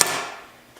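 A single sharp hammer strike while assembling metal parts for a vintage industrial island, a bright metallic hit that rings and fades over under a second.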